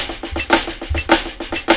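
Snare drum sticking pattern of steady sixteenth notes with flat flams, punchy accents falling on the E count of each beat, played close and alone at a brisk pace.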